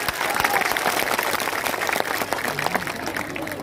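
A crowd at an outdoor election campaign rally in Assam breaks into sustained applause, a dense, even roar of clapping hands that holds steady for several seconds.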